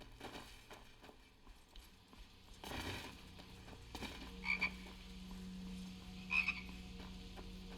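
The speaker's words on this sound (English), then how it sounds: "These red cave frogs." Red cave frogs croaking in Skyrim's Blackreach cavern, a few short croaks rising over a low steady hum and ambient drone, fairly quiet with distinct bursts near the end.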